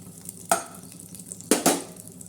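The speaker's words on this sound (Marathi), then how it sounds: "आपण थोडंसं खोबरं आणि हे कुटलेले काजू बदाम असे मस्तपैकी याच्यावर थोडेसे लालसर असे भाजणार आहोत" Grated coconut with crushed cashews and almonds roasts in a pan, heard as a few sharp stirring scrapes over a faint sizzle, close and without speech.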